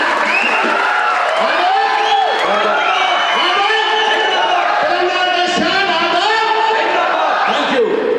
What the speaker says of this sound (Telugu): ఒకసారి గట్టిగా చప్పట్లు కొట్టాలి